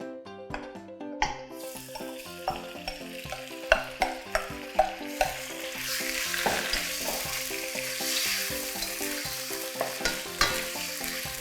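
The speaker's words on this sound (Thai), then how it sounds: "เริ่มจากตั้งกระทะใส่น้ำมันลงไปเล็กน้อยค่ะ แล้วก็ใส่เนื้อหมูซี่โครงหมูนะคะ ที่เราหมักเอาไว้ลงไป" Marinated pork ribs sizzle steadily in a hot pan with a little oil, with repeated sharp clinks of a utensil against the pan as they're stirred; no talking.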